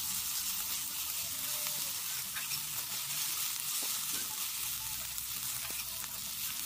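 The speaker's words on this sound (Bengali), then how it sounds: "একসাথে নেড়ে চেড়ে ভেজে নেব।" Onion, garlic and ginger paste stir-fry together in hot oil with cinnamon and cardamom, a dense, even hiss of frying that holds steady and close with faint scrapes of stirring throughout.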